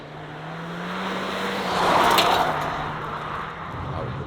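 A 2025 Honda ZR-V turbo lapping a test track at speed, its engine droning steadily and swelling to a louder peak midway as it passes close, then easing off, with no talk.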